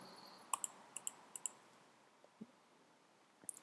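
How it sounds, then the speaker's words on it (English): Mouse clicks on a computer while starting a Shoutcast 2 AutoDJ server, heard as three pairs of sharp, quiet clicks in a row with a faint tap afterwards, no talking. "we can just click on Start here under Server"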